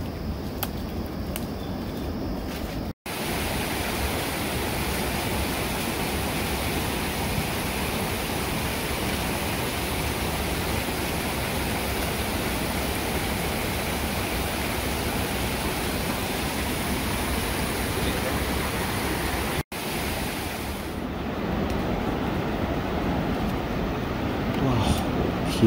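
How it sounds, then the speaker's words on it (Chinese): A very large waterfall in a mossy forest at Telang Usan roars with dense, steady broadband rushing water, loud and unbroken apart from two brief cuts. "这种大型的瀑布，这十多年来我真是看得多了，但是这样超级大的瀑布，我真的是第一次啊。"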